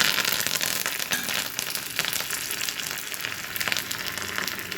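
Curry leaves frying in hot oil with crushed garlic, a continuous close crackling sizzle with sharp spattering pops throughout, steady in loudness.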